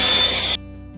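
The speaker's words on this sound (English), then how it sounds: "Okay, leaf blower time." A small battery-powered leaf blower whirs steadily with a bright hiss, then cuts off abruptly, leaving a faint low hum.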